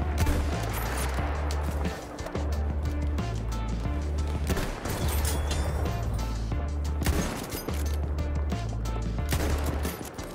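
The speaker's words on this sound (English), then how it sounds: "Getting shot by like 5 snipers over there." Repeated gunfire in the Battlefield 1 shooter, sniper fire mixed into a loud, continuous battle din with sharp cracks and deep booming bursts throughout.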